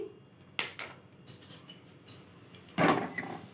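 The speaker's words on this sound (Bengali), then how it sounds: "এই যে আমি কড়াই বসিয়ে দিচ্ছি" A metal wok clanks and scrapes as it is set on a stove, a few sharp knocks followed by a louder clatter near the end.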